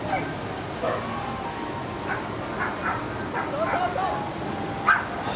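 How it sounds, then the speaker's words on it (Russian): A pack of about ten dogs fighting yip and bark in quick, scattered bursts at a moderate distance by a seaside restaurant, with squealing whimpers mixed into the noisy scuffle. "Снимай собак. Разодрались."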